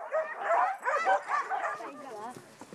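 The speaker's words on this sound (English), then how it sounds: "They breed sleigh dogs" Sled dogs bred in the wilderness of Kamchatka's southern peninsula give a steady run of yelps and barks. The calls come close together, fairly near and loud throughout.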